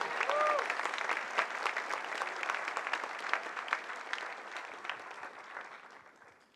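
A church congregation breaks into sustained applause, a broad wash of clapping from many hands that stays strong before slowly fading out, with a brief voice near the start.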